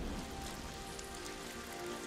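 Rain falls in the Ghost of Tsushima video game as a steady, dense patter on surfaces, even and unbroken throughout with no voices.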